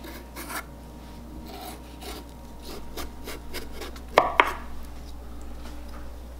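A knife scraping and shaving the remaining skin off a slippery honeydew melon, giving a run of soft rasping strokes followed by two sharper cutting clicks near the end, close and fairly quiet.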